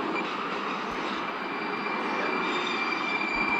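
Train in the Moscow Metro 2D simulator video game, a steady broadband rumble and hiss of a metro train running along, with a faint high whine, constant and fairly loud with no talking.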